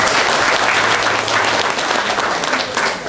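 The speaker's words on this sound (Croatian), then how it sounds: "Molim vas jedan aplauz za predsjednika." A party audience at a candidate presentation gives a loud, dense round of applause for the party president, sustained throughout without a break.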